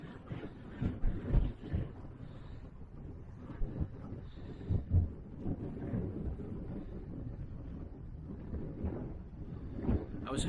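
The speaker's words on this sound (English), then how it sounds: "I do apologise for the wind noise if you can hear it." Buffeting wind rumbling against a microphone in uneven gusts, low and blustery, with faint background noise and no speech.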